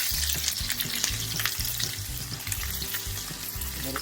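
Salmon searing in a pan in its rendered fat with dill, a steady close sizzle and crackle with low bubbling pops running continuously throughout.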